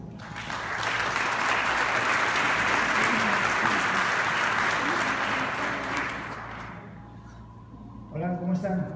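A children's council celebration audience gives a councillor a strong round of applause, loud and sustained for about seven seconds before tapering off as a voice begins speaking.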